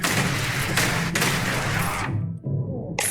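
Dense gunfire and explosions in the video game Starfield, a loud, continuous barrage of overlapping shots and blasts that cuts out briefly near the end before resuming with a sharp burst.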